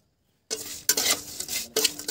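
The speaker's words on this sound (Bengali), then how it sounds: "নুন দিয়ে এটাকে খুব সুন্দর করে নাড়িয়ে নিলাম" Roti chips tossed with salt in a pan make a few scraping, clattering strokes of a utensil against metal, starting after a brief silence and coming in irregular bursts, close and fairly loud.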